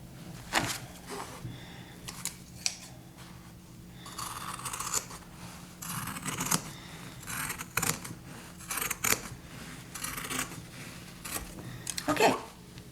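Scissors snip repeatedly through excess trouser-leg fabric while hemming, a run of crisp close cuts spread across the stretch with brief pauses and a low background hum.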